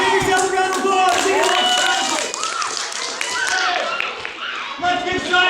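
Children's audience at a science show in the Creative Discovery Museum clapping and cheering, a dense continuous patter of small hands with excited young voices shouting over it, steady and loud throughout.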